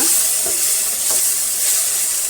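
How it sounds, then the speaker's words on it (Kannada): Okra frying in a pan with finely chopped tomato gives a loud, continuous close-up sizzle with faint stirring scrapes underneath. "ಈಗ ಒಂದು ಟೊಮೆಟೊ ಸಣ್ಣದಾಗಿ ಹಚ್ಚಿಟ್ಕೊಂಡಿರುವಂಥದ್ದು ಹಾಕೋಣ ಅದನ್ನು ಚೆನ್ನಾಗಿ ಫ್ರೈ ಮಾಡ್ಕೊಳ್ಳೋಣ"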